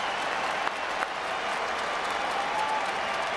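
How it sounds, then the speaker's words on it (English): Rugby World Cup crowd in a full 40,000-seat stadium, Wales v Fiji, applauding a substituted player; broad, steady clapping and crowd noise sustained throughout, heard from a distance. "he gets an even bigger round of applause, Dan Biggott."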